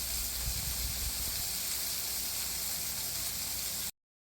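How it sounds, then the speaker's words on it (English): Burgers, peppers and onions sizzle on a Blackstone griddle, a steady broad hiss close up without pause, cutting off abruptly just before the end. "Burgers, peppers, and onions on the Blackstone."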